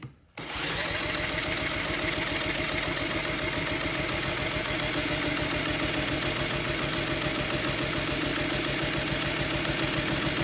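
A Honda CT70K1 motorcycle engine catches after choking and runs loud and near, a fast steady putter with rapid even pulses and a busy exhaust rattle continuing without pause.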